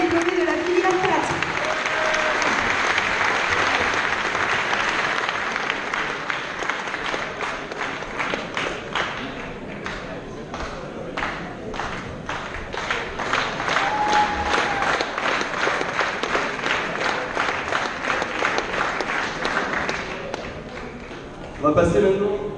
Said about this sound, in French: On peut applaudir une dernière fois les diplômés de la filière 4.